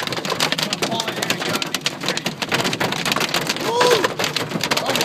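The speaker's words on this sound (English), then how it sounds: "We are in a hailstorm right now," Hail hammering a car during a Nebraska hailstorm, a dense, continuous pelting roar of impacts on the body with swells of louder battering, while people exclaim and shout nearby.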